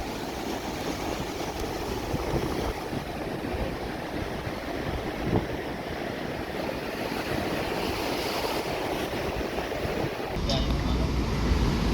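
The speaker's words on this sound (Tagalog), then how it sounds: "Pero ang lakas ng alon, nakakatakot." Large surf rolls and crashes on a windy beach at Aparri, Cagayan, a broad continuous roar with heavy wind buffeting the microphone, swelling louder near the end, while people talk over it.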